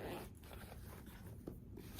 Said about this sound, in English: You've got a zipper pouch here.